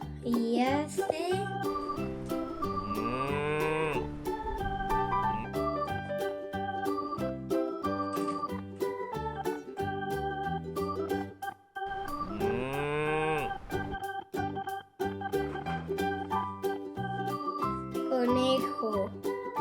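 A farm cow gives two drawn-out moos over steady, bright children's song music that plays throughout, with a light jingle layered in.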